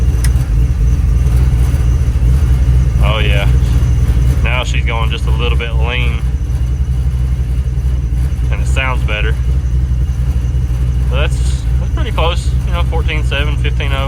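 A truck engine idling, running slightly lean, gives a steady low rumble throughout while people talk over it intermittently.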